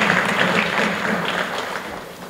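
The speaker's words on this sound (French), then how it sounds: "est-ce qu'on peut applaudir" Crowd applause for an outgoing institutional team at an official event of a human rights commission, a steady dense patter of clapping filling the room without pause.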